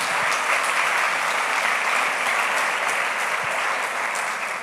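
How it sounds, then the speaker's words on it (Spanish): A large church congregation claps continuously, a thick, even roar of applause with no pauses, holding steady throughout. "Dame un aplauso al Rey de Reyes y Señor de Señores"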